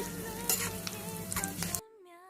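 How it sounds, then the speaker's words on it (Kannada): Ten to fifteen cashew nuts frying in a pan for Mysore-style bisi bele bath, a close crackling sizzle with scattered stirring clicks that cuts off abruptly near the end, leaving a faint hum. "ಗೋಡಂಬಿ ಒಂದು ಹತ್ತರಿಂದ ಹದಿನೈದು ಹಾಕೊಳ್ಳಿ ಆಯಿತಾ ಫ್ರೈ ಮಾಡ್ಕೊಳ್ಳಿ ಚೆನ್ನಾಗಿ"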